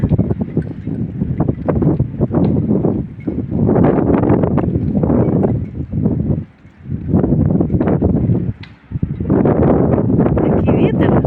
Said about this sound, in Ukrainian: Сьогодні трошки вітряно